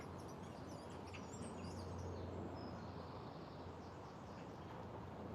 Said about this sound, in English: You get the benefit of more bird song.